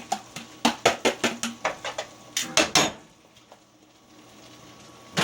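Shallots tipped into a hot pan while preparing seafood fettuccine with white wine butter sauce, a close rapid run of about a dozen clattering, clinking impacts against the metal, then a quieter faint sizzle with sparse small knocks.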